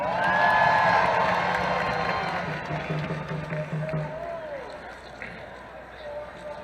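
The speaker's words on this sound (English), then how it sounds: "Please give him a warm round of applause." Huge crowd at a Washington march for Palestine cheering and clapping, a loud swell of applause and shouts that gradually fades, with speech heard over the crowd.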